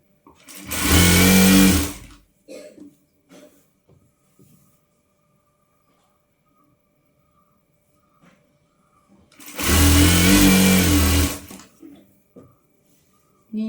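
A sewing machine stitches the fabric of an umbrella frock in two loud, steady runs of about two seconds each, separated by a long quiet pause with faint handling noises.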